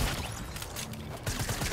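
Rapid shotgun blasts and crackling gunfire in a battle royale video game, dense and loud bursts filling the mix, with a second volley starting midway.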